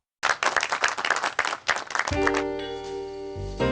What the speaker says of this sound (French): On applaudit à nouveau.